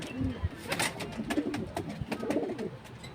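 Racing pigeon cooing up close in a loft, several soft throaty coos over a busy background of rustles and other birds, with no clear speech.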